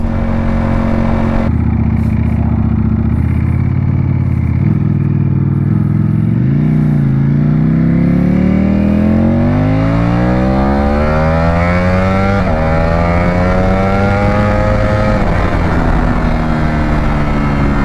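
A Ducati Panigale V4 motorcycle revs hard through its gears, loud and close, its engine note climbing in pitch with each pull and dropping briefly at the shifts.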